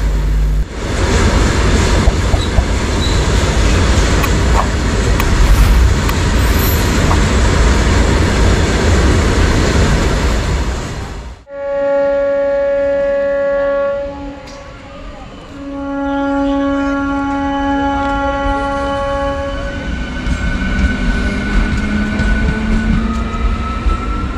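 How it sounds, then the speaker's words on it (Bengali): A freight train loaded with coal passes close by, with a loud, continuous rumble and rattle of the wagons for about eleven seconds. A steadier, tonal humming follows as the noise thins. "আকরিক কয়লা যাচ্ছে এই মালগাড়িতে করে।"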